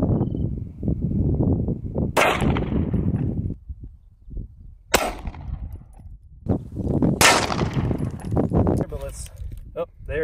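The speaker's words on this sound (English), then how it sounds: "next, we are using the CZ SP01 Shadow with 115 grain FMJ. 9mm rounds." Several sharp, loud gunshots from a CZ SP01 Shadow pistol firing 9mm 115 grain FMJ rounds at an armor plate outdoors, spaced seconds apart with quick echoing decay, amid ongoing talk from people nearby.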